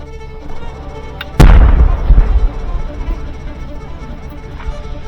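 One sharp, loud blank shot at a WWII reenactment ambush breaks a quiet, tense wait, followed by a rumbling echo and a few softer cracks and rustles trailing off, with faint voices in the background.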